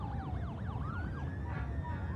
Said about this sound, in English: People should pull over for the ambulances.